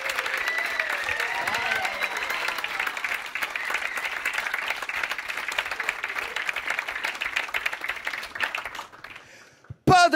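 Sustained audience applause at the 2013 Cogordas Awards ceremony fills the room with dense, steady clapping and some crowd noise, then cuts off abruptly near the end into a brief sharp sound.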